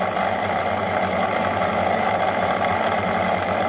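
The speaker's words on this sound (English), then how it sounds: "here you are seeing that this acting as a motor" A simple homemade motor built from a wire coil and a neodymium magnet runs with a steady, continuous buzzing whir at an even level throughout, close by and with no voices.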